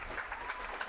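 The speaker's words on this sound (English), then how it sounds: "Let them quit clapping." A crowd claps steadily at a high school playoff football game, a dense wash of applause filling the brief moment without pause.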